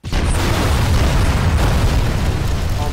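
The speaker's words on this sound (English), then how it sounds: "Detonation." A loud, sustained explosive detonation in a shooter game, with a heavy low rumble and blast roar lasting the full three seconds, no voices over it.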